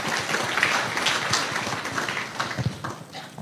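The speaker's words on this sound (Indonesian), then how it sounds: "Beri tepuk tangan dulu ini." An audience at a public talk breaks into a short burst of applause, a dense crackle of clapping heard up close for a few seconds.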